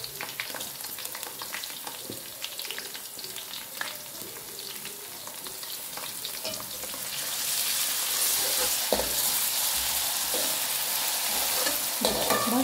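Whole black pepper, cumin and crushed garlic and ginger fry in oil, a close crackling sizzle with stirring clatter that swells louder and brighter partway through.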